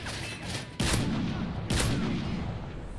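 Two loud gunshot bursts from the Modern Warfare 3 video game's survival mode, each a sharp crack with a booming tail, about a second apart over a low background rumble.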